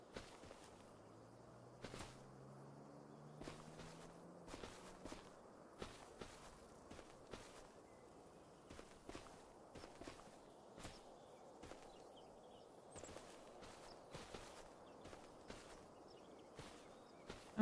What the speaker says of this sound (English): sometimes the footsteps sound like somebody behind me trying to step when I'm stepping